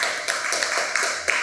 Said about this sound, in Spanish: Den un fuerte aplauso a Jesús, por favor